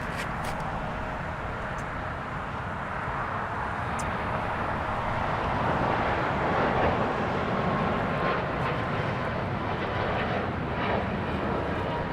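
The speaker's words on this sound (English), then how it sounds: "Here goes Cayman Airways. This one's flight 481 heading to Grand Cayman." Cayman Airways airliner departing LAX, a sustained jet engine roar heard from a distance that builds gradually and holds steady throughout.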